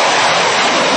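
A Russian T-50 fifth-generation fighter jet flying near Komsomolsk-on-Amur, a loud, unbroken roar of jet engine noise filling the whole moment.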